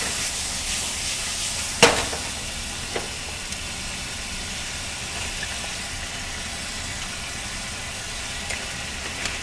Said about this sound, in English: we're just going to let those simmer in there for a minute till everything starts to break down